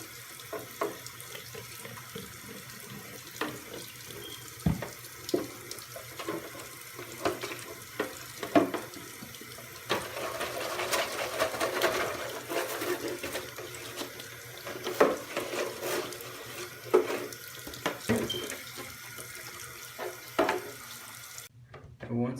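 Running water rinses soap off a painted JConcepts RC car body for a Slash 4x4 build, splashing steadily under a faucet with irregular spatters and knocks throughout, close and moderately loud.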